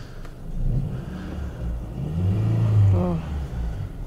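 A Peugeot 407 Coupe with a manual gearbox starting up, a low engine rumble swelling and idling with a brief rev, close by, with faint background noise.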